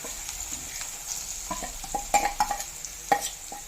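Onions fry with a ground tamarind and chili paste in a pan, giving a steady close sizzle broken by several sharp spoon scrapes and clacks as the mixture is stirred, with no talk.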